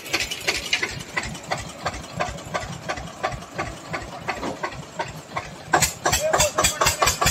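An Eicher tractor engine labours and revs hard while trying to pull a trolley stuck in wet mud after rain, a loud rhythmic chugging knock with rising bursts, heard close by.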